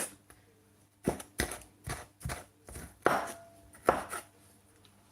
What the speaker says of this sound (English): I'm chopping these chilies with my fingers